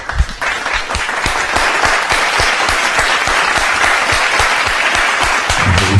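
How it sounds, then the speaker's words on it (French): A church congregation applauds with loud, steady, dense clapping that runs without a break, a few sharp individual claps standing out near the start. "Merci de recevoir notre très cher frère, s'il vous plaît, sous vos applaudissements."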